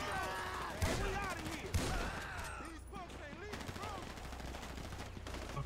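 Bursts of gunfire in GTA V, from chaos-mode mayhem, crackle steadily with a couple of sharper shots standing out, while voices talk over the shooting.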